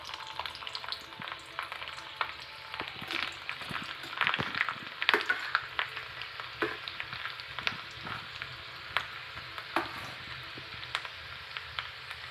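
Garlic sizzles and crackles in hot oil with a constant frying hiss, occasional stirring scrapes and pops, close up.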